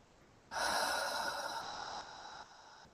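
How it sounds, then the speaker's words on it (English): One slow deep breath drawn in through the nose during a guided breathwork session, a single soft airy inhale that swells and then gradually tapers over a couple of seconds, close and quiet, with no talk. "Nice deep breath, nice and slow."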